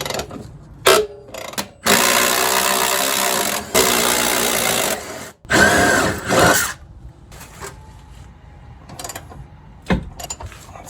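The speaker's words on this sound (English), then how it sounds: "Let's see if we can get the sway bar link bolts off." Power tool, likely an impact wrench, removing rusty sway bar link bolts during a rear axle swap on a Jeep Cherokee, running in several loud bursts of a few seconds each with short gaps and quieter clicks between.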